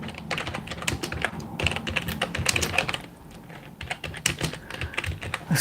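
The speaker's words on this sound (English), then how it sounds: "I'm just going to type in." Typing on a computer keyboard, a rapid run of close, crisp key clicks in uneven bursts with brief pauses, alone without talk.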